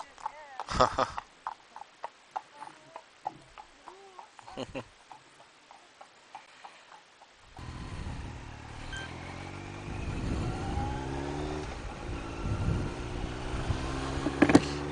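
Horse hooves clip-clop at a steady walk on a country road, sharp distinct hits that come close, then a louder engine and road rumble take over the second half.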